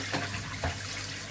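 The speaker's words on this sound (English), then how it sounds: "that rotating spray ball does a pretty good job at getting all surfaces wet" Water from a rotating spray ball in a DIY homebrew keg washer, a steady close hiss and splatter of spraying water with soft pulsing swishes, no talk.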